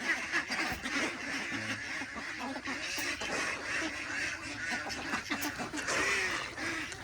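A flock of farm-raised ducks quack and chatter noisily and continuously close by, a busy overlapping din with only faint traces of voice.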